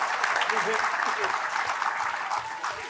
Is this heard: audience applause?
yes